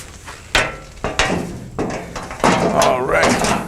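Several hard slams and knocks as the engine compartment door of a forestry machine is handled and shut, sharp bangs spaced through the clip with a person talking between them.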